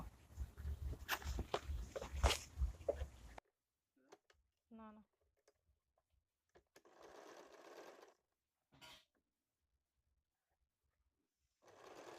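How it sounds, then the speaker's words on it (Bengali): A sewing machine stitches a designer blouse, folding the fabric and sewing it in place, with steady mechanical whirring that comes in short bursts, a loud stretch at the start and briefer runs later, separated by quiet pauses. "এই জায়গা থেকে এটা ফোল্ড করে এইভাবে সেলাই করে নেব"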